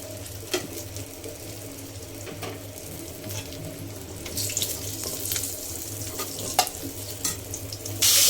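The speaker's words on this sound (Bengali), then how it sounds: "একইভাবে বাকি বেগুনগুলো ভেজে নেব" Brinjal slices frying in fairly deep oil as the pieces are fried one after another, with a steady broad crackling sizzle throughout and louder bursts and clatter toward the end.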